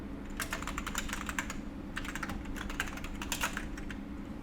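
Fingers type quickly on a computer keyboard while setting up an account, a close, busy stream of crisp key clicks in short irregular bursts over a faint background hum, with no talking.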